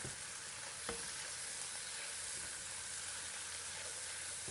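Parsley being stirred into a pot of seafood jambalaya, a steady loud sizzle and bubbling hiss with a faint spoon knock.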